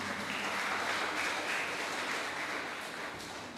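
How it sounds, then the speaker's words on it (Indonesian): A large congregation applauds in a steady, dense wash of clapping at a Pentecost church service, continuing evenly without a break. "berikan tepuk tangan untuk kita semuanya malam ini"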